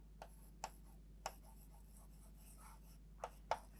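Marker or chalk writing on a board during an organic chemistry lesson, faint, quiet taps and short scratchy strokes in a sparse irregular rhythm, with no talk over them.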